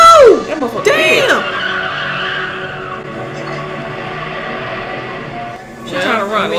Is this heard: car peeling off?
yes